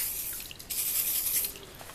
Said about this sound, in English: Spray her with some more WD-40